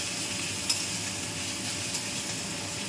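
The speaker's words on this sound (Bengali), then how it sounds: "আমি পেঁয়াজটা আরেকটু ভাজবো এগুলোর সাথে" Chopped onion frying and sizzling steadily in a pan for egg resala, a continuous close hiss broken by a couple of brief stirring clicks.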